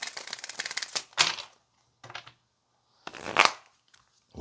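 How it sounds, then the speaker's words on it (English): Bursts of tarot cards riffling and snapping together, several quick shuffles separated by short pauses, close and fairly loud. "let's go ahead and get a couple of more shuffles for you"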